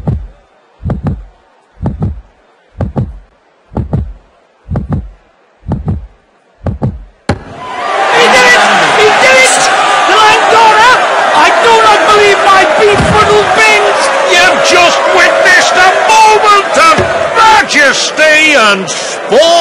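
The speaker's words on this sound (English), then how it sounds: "Crowd going banana-ramas!" A packed darts arena erupts into a roaring, sustained cheer after a nine-dart finish at the PDC World Championship, loud and continuous, following a series of evenly spaced rhythmic thumps.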